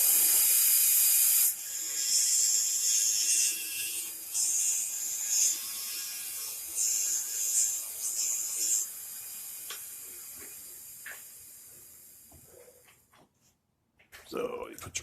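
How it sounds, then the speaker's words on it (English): A pencil is cranked through a mechanical sharpener in a woodworking shop, a loud close grinding ratchet that runs steadily for several seconds, then fades to quieter clicks and handling before a short final burst. "Sharpen this pencil."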